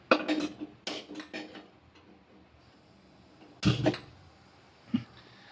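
Gram flour batter for khandvi is stirred in a pan over a gas flame, giving irregular scraping clinks of a spoon against metal in scattered clusters, with quiet gaps between them.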